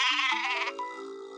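A black sheep bleats once in a short, wavering, nasal call that trails off into a fainter tail, close and alone with no voices.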